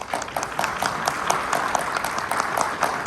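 Applause for a speaker at a conference, many hands clapping in a sustained, dense patter with distinct sharp claps throughout, moderately loud and steady.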